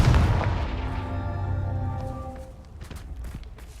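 In Hogwarts Legacy, a Confringo fire-blast spell erupts with a loud deep boom and a ringing, descending tonal tail, then fades into scattered sharp crackles and small impacts.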